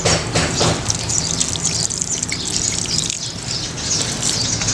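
Plants being watered outdoors in the morning, a broad steady splash and gush of water running through the whole stretch, with birds chirping nearby and no talking.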